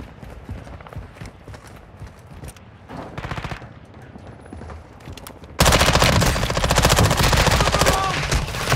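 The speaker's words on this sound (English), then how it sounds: "You are taking effective fire." Rapid bursts of automatic gunfire ring out in the DMZ shooter game. Scattered shots come first, then a loud sustained barrage fills the second half.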